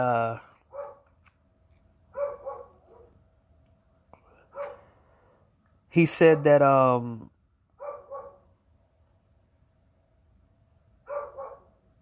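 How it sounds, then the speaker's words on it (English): A dog barks randomly in the background, sounding as a scattering of short, fairly distant barks across the stretch, with one louder, longer whining yelp in the middle. "if you hear the dog in the background, that dog barks randomly."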